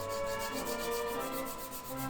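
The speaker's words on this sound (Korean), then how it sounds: "최대한 파츠들을 분리해서 사포로 다듬을 수 있게 해줍니다" Sandpaper rubs steadily across 3D-printed wood-filament bow parts, a continuous dry scratching with a gentle back-and-forth pulse, close and alone with no talk.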